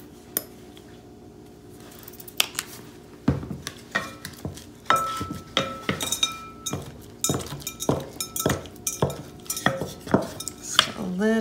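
A spoon stirs honey into homemade butter in a bowl, with close clinking and scraping against the dish in an irregular, quickening rhythm.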